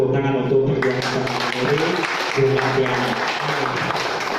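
Applause at a political gathering in North Lampung, honouring a politician, rises as a broad, steady clatter of many hands under an amplified voice that keeps talking throughout.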